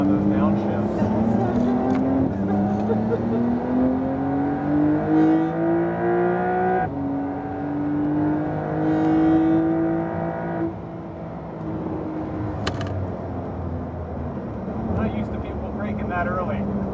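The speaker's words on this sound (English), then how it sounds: "Nice rumble on those downshifts." A Porsche 992 GT3 engine on track at Laguna Seca drones loud and close, its pitch climbing through the gears and then dropping with rumbling downshifts, under steady wind and road roar.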